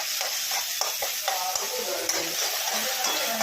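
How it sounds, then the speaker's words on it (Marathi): Goat brain (bheja) frying lightly in a pan, a steady close sizzle with soft stirring scrapes running throughout. "हा जो भेजा आहे हा आपण टाकून घ्यायचा आणि एकदम हलकासा फ्राय करायचा आहे"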